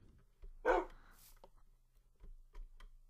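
A tamed wolf in Minecraft with the Doggy Talents mod gives a single soft bark and a few faint yips against quiet game background, sounding distant and low in level.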